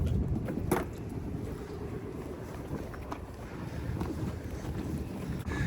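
Steady wind rushes and rumbles across the microphone aboard a sailboat casting off from its slip and heading out to sea, a continuous broadband roar with a faint sharp knock near the start.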